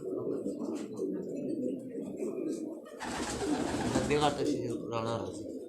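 A Rampuri pigeon hen coos on a Karachi rooftop, low rolling coos close by, joined partway through by a brighter burst of activity and a person's voice.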